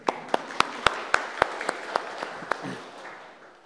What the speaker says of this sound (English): A round of applause for our volunteer.